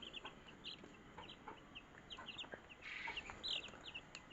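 Young Tiger-breed chicks cheep and cluck in short, repeated peeps at a farm, faint and scattered, with a brief rustle partway through.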